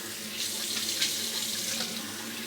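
Water splashing steadily from a bathroom tap into a sink as the face is wetted before a shave, close and continuous with small splashy surges.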